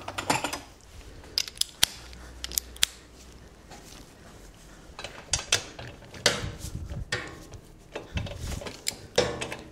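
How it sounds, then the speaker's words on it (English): Torque wrench on the rear spindle of a Yamasaki F series motorcycle, clicking and ratcheting in irregular bursts of sharp metallic ticks, close up with quiet gaps between strokes and no talking. "I'm going to do it with a torque wrench"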